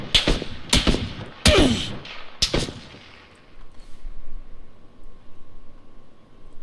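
A grenade blast and gunfire in the PUBG video game, heard as several loud, sharp bangs close together in the first few seconds, then a fading rumble and low background noise.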